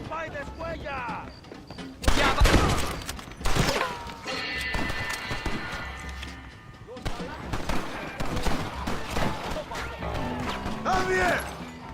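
Gunfire in the Red Dead Redemption video game, with repeated loud close shots and bursts during a shootout, mixed with in-game voices shouting and music-like tones.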